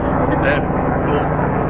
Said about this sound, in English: Apologies for the helicopter, it's convenient coming over when we're trying to do a video.